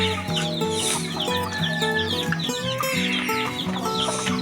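Shamo chickens cluck and chatter continuously at feeding time in a backyard, many birds calling close together without pause.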